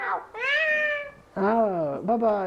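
A cat meows several times, with long rising and falling cries close by, while a person speaks in French over them.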